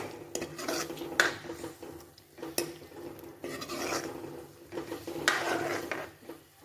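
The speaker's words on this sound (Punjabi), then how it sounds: "ਦਹੀਂ ਨੂੰ ਆਪਾਂ ਚਲਾਉਂਦੇ ਹੀ ਰਹਿਣਾ ਤਾਂ ਕਿ ਦਹੀਂ ਆਪਣਾ ਫੁੱਟੇ ਨਾ" Yogurt is stirred continuously in a cooking pan over medium-low heat, a spoon scraping and clinking against the metal in steady, close, moderately quiet strokes with no voices.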